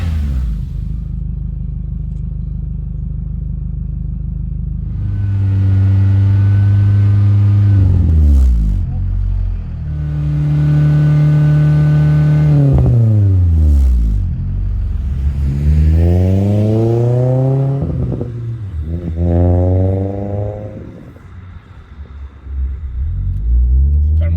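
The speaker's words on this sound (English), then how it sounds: "It still has that nice low growl at startup, just quieter." Car exhaust fitted with a Vibrant Ultra Quiet resonator: steady low idle rumble, then several engine revs rising and falling, a few rapid blips near the end, close and loud.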